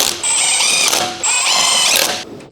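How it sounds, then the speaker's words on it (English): An electric impact wrench with a short extension bar and 22mm wheel socket snugs the lug nuts on a Dodge Ram 1500, two loud close bursts of rapid whirring hammering with a brief pause between them. "Using the electric impact wrench with the large short extension bar and 22mm wheel socket to snug the lug nuts"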